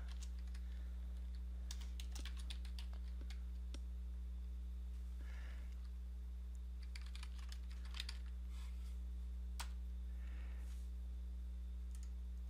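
Typing on a computer keyboard comes in bursts of close, quick key clicks with short pauses between them, set over a steady low electrical hum and no speech.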